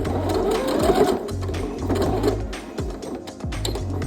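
A sewing machine back stitches across a denim dress pocket, a steady mechanical whirr with short stops and restarts as the stitching reverses, close and loud throughout.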